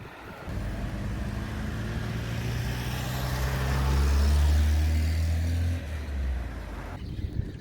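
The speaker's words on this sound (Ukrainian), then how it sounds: "Ми їдемо по Чернігову, доїхали до розв'язки." A car drives through the city streets of Chernihiv, Ukraine, reaching an interchange; steady road and engine noise swells to a louder passage midway, then eases, with no talk.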